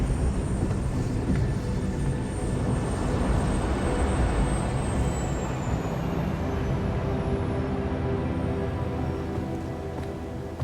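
Airplane flight in a 007 First Light cutscene: a steady, loud broadband engine roar with a low rumble, holding continuously for about ten seconds, with no voices over it.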